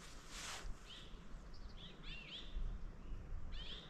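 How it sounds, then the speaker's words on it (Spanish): Morning birdsong on a mountainside, with faint chirps and short whistled phrases from a few birds at some distance over a low, rumbling background, with no voices. "Puedo escuchar a los pájaros por la mañana"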